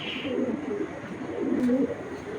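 A pair of blue checker pigeons coos nearby in soft, low throaty rolls, two or three phrases rising and falling over a steady background hiss.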